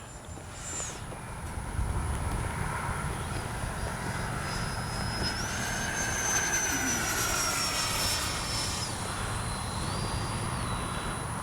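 An FMS 70mm Yak 130 RC electric ducted-fan jet flies overhead, a steady whining whoosh with a high tone sliding up and down as it passes and banks, moderately loud against outdoor wind rumble, no talking.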